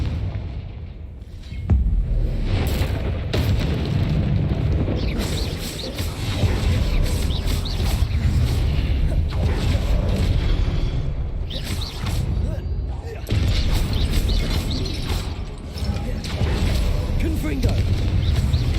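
Confringo fire spell blasts in the Hogwarts Legacy game, a dense, loud run of booming explosions and crackling combat effects that barely lets up, with a voice speaking in the thick of the fight.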